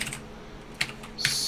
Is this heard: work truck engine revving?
no